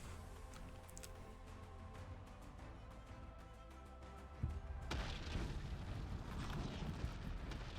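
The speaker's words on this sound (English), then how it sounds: "And the nuclear blast was so outrageous, so egregious," Nuclear blast in the Ultimate Epic Battle Simulator video game: a sudden deep boom partway through, followed by sustained roaring rumble and crackle that stays loud to the end, over earlier scattered battle noise.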